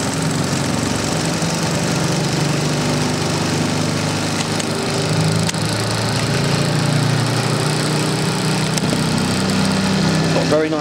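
A washing machine spins steadily with a loud, continuous droning hum and rattle, close and unbroken throughout, as people talk nearby.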